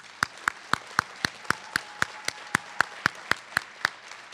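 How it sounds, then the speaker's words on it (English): Slow, evenly spaced single hand claps at a graduation ceremony, about fifteen sharp beats in four seconds, moderately distant in a hall, with no talking. "Please join me in giving the entire team a round of applause"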